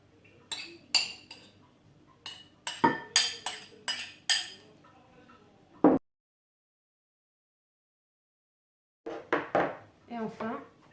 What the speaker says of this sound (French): Je vais venir détendre le fromage en le mélangeant un petit peu.